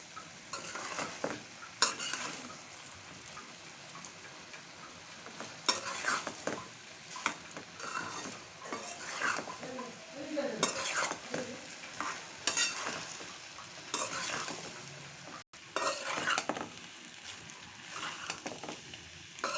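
Vegetable pasta is stirred and tossed in a sizzling pan, with irregular scraping and clinking of a utensil against the pan over a continuous frying hiss.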